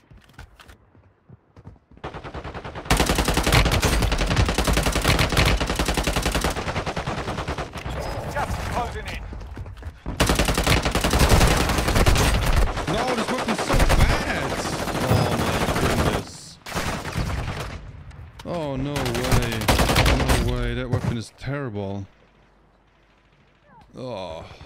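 Rapid bursts of gunfire in Warzone Mobile, a battle royale shooter, dense and loud through most of the stretch with brief pauses, mixed with game effects, while a voice talks over the action.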